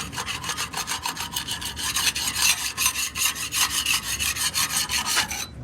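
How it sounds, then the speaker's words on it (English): Rapid back-and-forth scraping strokes of a hand scraper stripping a coating off a surface, a steady rasping rhythm of about two strokes per second, close and fairly loud, with no voices. "all I'm doing is scraping that"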